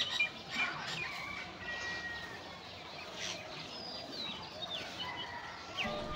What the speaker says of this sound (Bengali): পাখির কিচিরমিচির, মানে পাখি ডাকছে, তোমরা শোনো আর কি।